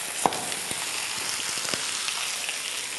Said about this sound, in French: les pommes de terre sont en train de cuire, elles caramélisent, elles colorent